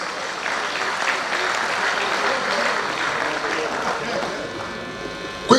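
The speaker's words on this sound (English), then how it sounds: "Let's give him another round of applause." Steady, dense applause fills a conference hall as an Urhobo/Isoko church audience gives Deacon Chris another round, holding at an even level for several seconds before a brief sharp bump at the very end.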